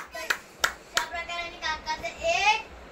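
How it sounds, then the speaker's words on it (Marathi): A few sharp hand claps cheering a child's ball game at home, three distinct claps in quick succession, then children and an adult chattering excitedly. "टाळ्या टाळ्या टाळ्या"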